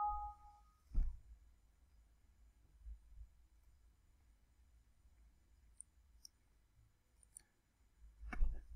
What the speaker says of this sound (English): Just right click on it and open the software.